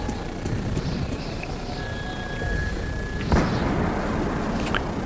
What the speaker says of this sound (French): J'ai entendu un coup de feu.